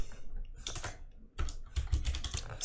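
Rapid keystrokes on a computer keyboard come in close, uneven bursts with a short pause partway through, no voices.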